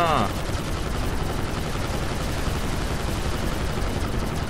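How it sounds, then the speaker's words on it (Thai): Twin machine guns on a futuristic Oblivion-style drone fire in GTA 5, a dense, continuous loud rattle of rapid gunfire that fills the whole stretch without pause. "ทีนี้มาดูการโจมตีของเขากันบ้างครับ นี่ฮะปืนกลสองกระบอกนะครับ"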